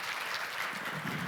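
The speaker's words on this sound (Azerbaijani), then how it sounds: "Alqışlayın Xəqani müəllimi" Forum audience applause greets a speaker in a conference hall, a soft, distant, continuous patter of many hands.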